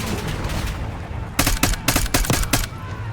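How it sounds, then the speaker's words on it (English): Teammates' suppressive gunfire in Call of Duty Black Ops 6: a brief lull of battlefield noise, then several rapid, loud bursts of automatic fire in quick succession. "thanks for the suppressive firing while I'm moving, guys"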